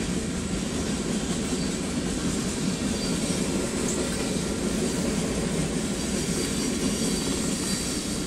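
A Union Pacific freight train, locomotive 2671, rolls steadily through a rural crossing at Saint Elmo, Illinois, a loud continuous rumble of wheels and cars with faint clickety-clack, heard close and unbroken throughout.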